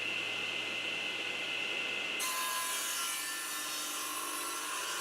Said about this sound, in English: If I had a thickness planer, this would have been a fairly quick process, but I don't, so I use the table saw.